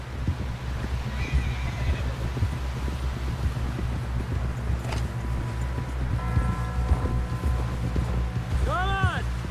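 A horse in the Red Dead Redemption 2 video game gives a clear neigh near the end. Steady hoof clip-clop runs throughout over low rumbling ambience, with talk heard along the way.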